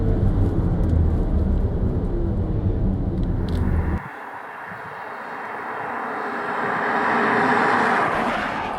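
A loud humming drone cuts off abruptly, then a softer synthetic whine rises and falls gently as a BMW i4 M50 electric car brakes and slows.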